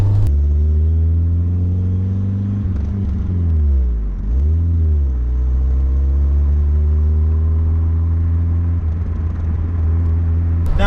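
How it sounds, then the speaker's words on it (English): A Peugeot 205 GTi Dimma with a loud exhaust drives along an open road, its engine droning steadily and close throughout, dipping briefly as it shifts gear near the middle before pulling strongly again. "I've got an open stretch of road and I've got a lovely loud exhaust"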